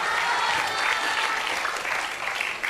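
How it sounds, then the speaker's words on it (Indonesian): An audience at a national Qur'an memorization training session breaks into brisk, dense applause that fills the whole short stretch at an even level. "Tepuk tangan dong, luar biasa sekali."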